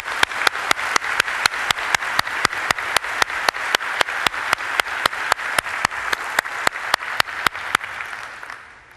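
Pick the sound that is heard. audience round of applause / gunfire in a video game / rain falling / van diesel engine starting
audience round of applause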